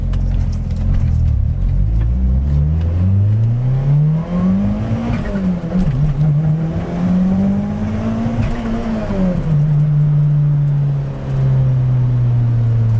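A turbocharged Mitsubishi Eclipse, revived after sitting abandoned for 15 years, revs loudly and steadily, its engine pitch climbing, dipping and climbing again under boost, with no talk.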